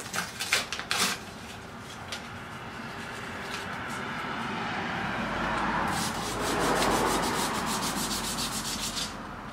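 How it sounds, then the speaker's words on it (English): A damaged alloy wheel rim being hand-sanded with 100 grit sandpaper: a continuous close rasping rub that swells and fades with the strokes, with a few quick scraping bursts at the start and again near the end. "I'm going to go with 100 grit."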